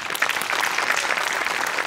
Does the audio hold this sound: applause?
yes